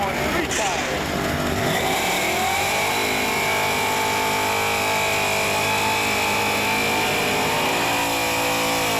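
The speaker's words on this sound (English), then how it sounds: "Got close to that rev limiter" A stick-shift Ford Mustang small-block V8 with aftermarket mufflers revs hard, climbing in pitch and then holding a loud, sustained drone close to the rev limiter, heard up close for several seconds.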